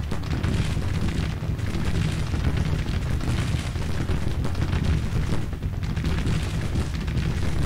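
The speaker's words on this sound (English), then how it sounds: "Firefight continues." A Civil War battle firefight in the video game Grand Tactician, a continuous loud rumble of massed musket and artillery fire blending into a dense, booming roar throughout.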